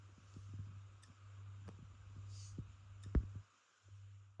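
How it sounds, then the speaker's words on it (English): A faulty transformer on a Hisense TV power supply board ticks out a string of soft, irregular clicks over a steady low electrical hum, close up and faint, with one sharper snap near the end. "here I'm just pointing to the transformer that I think is at fault and listen out for this clicking sound"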